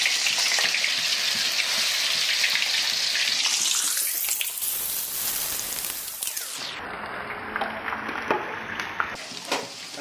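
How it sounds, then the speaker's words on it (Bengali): Ginger garlic paste hits hot oil in a pan and sizzles loudly and steadily, a dense close hiss that shifts in tone as it settles, with a few light clinks near the end. "এখন আদা রসুনের পেস্টটা যেটা করা ছিল সেটা ফ্রাই করার জন্য এটাতে ঢেলে"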